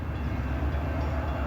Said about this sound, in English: Huron and Eastern Train 701 is coming into Durand